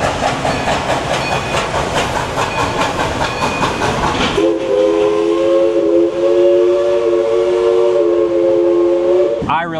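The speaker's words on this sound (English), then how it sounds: "Hold on, the train is coming." A Dollywood theme park train passes loudly with rumbling, clattering wheels, then a long steady steam whistle blast sounds close by, ending abruptly.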